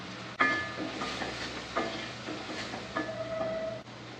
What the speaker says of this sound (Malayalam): നല്ല പൊരിയുന്ന വരെ വറുത്തെടുക്കാം. ഇളക്കി കൊടുക്കാം.